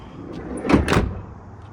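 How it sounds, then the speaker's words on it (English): A car door on an Eagle Summit/Mitsubishi Expo swings shut after a door handle repair, giving one close, firm thud with a short rattle that fades quickly. "So let's go ahead and close the door"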